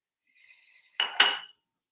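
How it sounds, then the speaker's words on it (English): A soft, faint scraping leads into two quick, bright clinks of a metal spoon against a ceramic cup holding honey, then silence. "The spoon on the cup"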